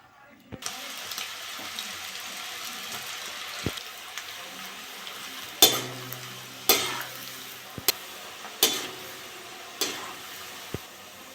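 Semolina sitabhog sweets frying in hot oil, giving a steady bubbling sizzle. Sharp clinks and scraping strokes from a utensil break through it several times.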